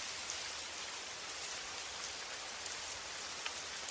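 Gentle rain falls steadily, a soft, even wash of drops pattering on a surface, faint and unbroken throughout.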